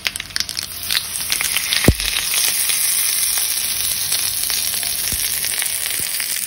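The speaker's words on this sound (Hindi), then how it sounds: "अब इसके ऊपर लगा देंगे हम तड़का," Hot tempering oil with mustard seeds and curry leaves poured over beetroot raita gives a loud, close, steady sizzle. A few sharp pops and crackles break through, and no one speaks.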